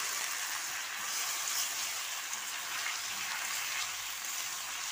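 Steady, even sizzle of ginger, green chilli and tomato paste hitting hot oil with frying cauliflower and potato, a soft hiss with no pauses or voices.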